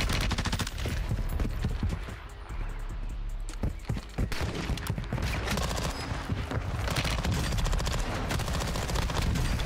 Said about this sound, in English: I'm being shot by so many people, man.